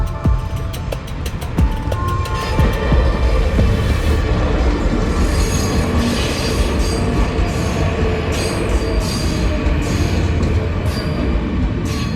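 A train rumbles steadily past at close range in Tunisia, a continuous loud roar of wheels and carriages with metallic squeals over a heavy low drone.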